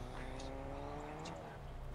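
A car engine drones steadily in the Fortnite video game, a continuous mid-level hum with a faint whine throughout.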